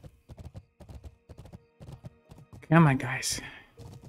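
Horse hooves clip-clop in World of Warcraft as a mounted character rides, a steady even rhythm of close, crisp hoofbeats, briefly broken by a horse whinny and a short spoken remark.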